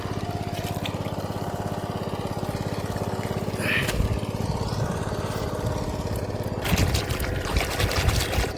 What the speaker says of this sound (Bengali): ভালোই গতিতে জল বেরিয়ে যাচ্ছে